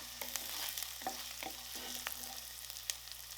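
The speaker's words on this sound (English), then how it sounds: "Heat up some oil and then saute your onions until they turn translucent." Onions sautéing in hot oil in a pan for a vegan tofu scramble, a soft, even sizzle punctuated by a handful of light scraping stirs, fairly quiet and close, with no talking.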